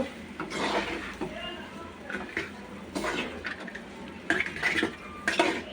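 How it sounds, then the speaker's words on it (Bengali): Chopped tomatoes are stirred into spices in a pan, with repeated metal scraping and clinking of a spoon against the pan and some soft sizzling, close up, with a voice talking over parts of it. "আর দিয়ে দিচ্ছি কেটে রাখা টমেটো মশলার সাথে মিক্স করে নেব"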